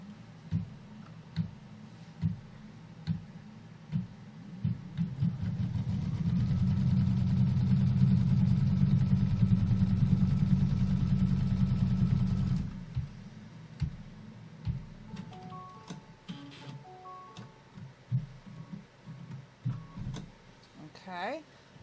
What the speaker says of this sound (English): now we're going to stitch out the placement line for that first piece of fabric